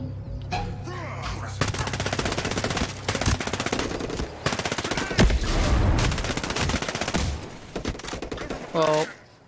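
Sustained automatic gunfire rattles through a Ghost Recon Breakpoint co-op firefight, dense rapid bursts with heavy low booms that could include a grenade blast, while players talk over the shooting.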